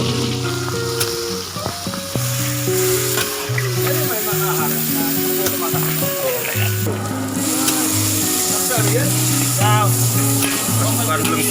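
Blended galangal with garlic fries in a pan with a steady sizzle, while music with sustained tones plays over it and voices chatter intermittently.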